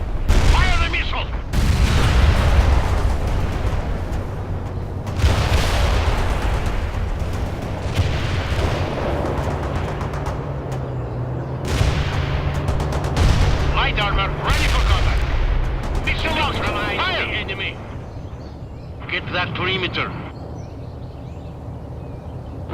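World in Conflict battle: a loud missile launch and booming impacts mix with repeated gunfire bursts and explosions, heavy and close, with radio-style voices talking in between.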